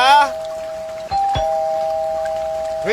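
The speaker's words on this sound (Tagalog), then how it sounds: "May doorbell kayo, di ka sumasagot." An electronic doorbell chimes close by, a sustained ringing tone with a couple of ding strikes under the rain-soaked scene, while a voice is heard briefly at the start and end.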